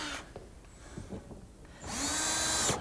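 A power drill whirs while driving screws into flat-pack furniture: brief handling knocks, then a sustained close, loud motor whine lasting under a second before cutting off.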